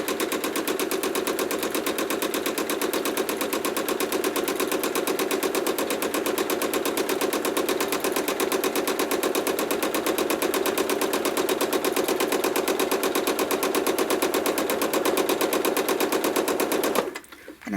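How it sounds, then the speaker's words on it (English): A sewing machine runs fast and steadily, free-motion stitching feathers around an appliqué, its rapid even needle chatter close and loud before stopping abruptly near the end. "Stitch some feathers along the outside."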